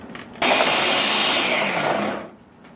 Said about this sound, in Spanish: Y la voy a licuar aproximadamente 2 minutos.